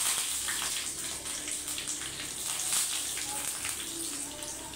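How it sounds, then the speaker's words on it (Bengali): Tap water runs steadily while carrots are being washed at a home kitchen sink, a continuous splashing gush with a faint voice underneath. "গাজরটা আমি ভালো করে ধুয়ে তোমাদেরকে দেখাবো"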